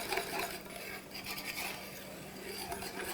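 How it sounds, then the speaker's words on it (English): Rapid whisking of egg yolks into a hot bechamel sauce in a pan, a quick continuous scraping and rasping rhythm close up with no talking. "You just got to whisk quicker."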